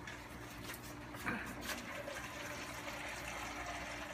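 Water pours into a soup pot of chicken stock in a home kitchen, a soft continuous gushing splash heard faintly and briefly without talk.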